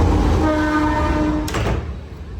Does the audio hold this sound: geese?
no